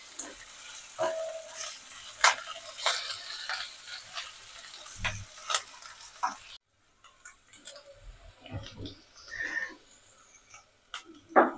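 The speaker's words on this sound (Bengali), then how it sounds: "একটু হালকা করে ভেজে নেবো এগুলো" Vegetables fried lightly in a pan and stirred, giving intermittent sizzling and scraping clicks of a utensil, with a brief quiet gap before stirring resumes; no talking.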